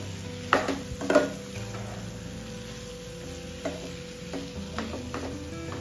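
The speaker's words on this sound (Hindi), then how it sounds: "इनको आपको अच्छे से मिक्स करना है और टमाटर को मीडियम फ्लेम पे आपको पकाना है" Tomatoes cook over a medium flame, a soft steady sizzle beneath scraping and knocking as a spoon stirs and mixes them in the pan, with a few louder clinks near the start.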